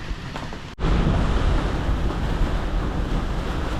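Strong storm wind, gusting to about 50 knots, roars with crashing waves around a boat on a mooring ball. After a brief dropout, a loud steady rush of wind and surf fills the scene with no voices.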